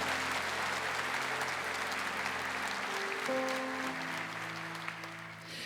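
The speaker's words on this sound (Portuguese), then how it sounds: "Aplaude a vitória de Jesus Cristo." A church congregation applauds at a Catholic worship gathering, a steady wash of clapping from many hands that fills the room for several seconds, with organ-like sustained tones underneath.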